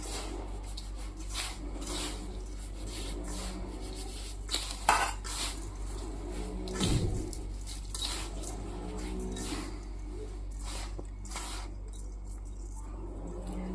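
Semolina is worked by hand with oil in a bowl, giving soft rubbing and scraping sounds with occasional light clinks against the dish, close and fairly quiet.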